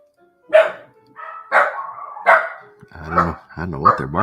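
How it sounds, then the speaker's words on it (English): Several dogs bark in short, separate bursts at moderate distance, followed by higher yips and whines toward the end. "I don't know what they're barking at."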